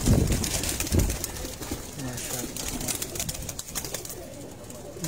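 Black-faced pigeons coo among a flock in Lyari, Karachi, low throaty calls close by with occasional wing flutters, mixed with people talking and general outdoor bustle.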